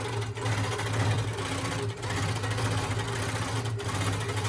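A sewing machine stitches steadily during free-motion quilting of feathers around a quilt block, a continuous close mechanical hum with two brief dips where the stitching pauses.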